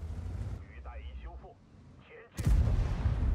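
An artillery shell strikes the player's tank in World of Tanks with a sudden heavy boom and rumbling roar, following in-game engine drone and a short synthetic warning tone, with speech mixed in.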